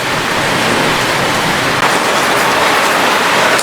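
Rain falling in hot weather in India, a dense, steady hiss of heavy rainfall that holds at full loudness throughout with only a momentary dip, with no voices over it.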